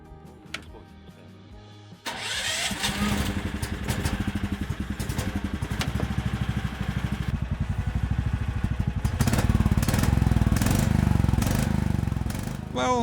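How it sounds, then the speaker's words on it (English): A $3000 snowmobile engine cranks and catches after about two seconds, then settles into a steady, buzzy small-engine idle with a rapid pulsing rhythm, picking up slightly near the end. "Let's try to start the engine and listen to it,"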